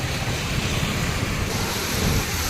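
Mahanadi River floodwater rushes through open dam gates in Cuttack, Odisha, making a loud, continuous roar that stays steady and close, with heavy wind buffeting and no talk.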